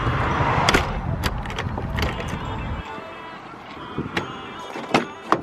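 Inside a moving car, a low road rumble fades partway through, leaving quieter cabin sounds with scattered clicks and knocks.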